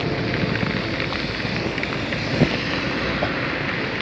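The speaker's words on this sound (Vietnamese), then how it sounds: "Wow, hôm nay mưa rất là to quý vị." Heavy rain and strong wind in Da Lat, Vietnam, make a dense, steady hiss and roar throughout, with a couple of faint knocks standing out briefly.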